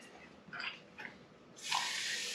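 Water runs from a tap to rinse out a glass, a few short splashes followed by a steadier, louder gush of flow, with no voices.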